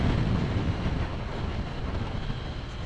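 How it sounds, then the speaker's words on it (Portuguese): Strong wind on a fast mountain-road descent buffets the microphone with a constant low roaring rumble, steady and loud, no voices heard. "E pra baixo o vento já tá começando a ficar forte"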